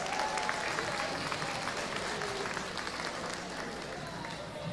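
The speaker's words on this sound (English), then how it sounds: "give her a round of applause" Audience at a Saginaw Chippewa round dance gathering gives a sustained round of applause, dense clapping at moderate distance holding steady, thinning slightly toward the end, with no voices over it.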